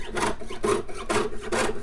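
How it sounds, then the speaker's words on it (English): Rhythmic back-and-forth strokes of a jeweler's saw cutting metal, four rasping passes at a steady pace, close and clear. "So now I'm going to saw this piece out"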